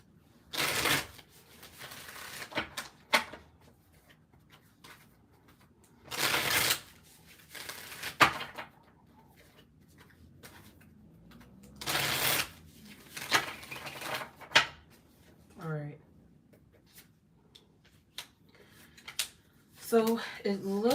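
Tarot cards being shuffled in repeated bursts of papery riffling, close by, with short quiet gaps between and a voice briefly heard near the end.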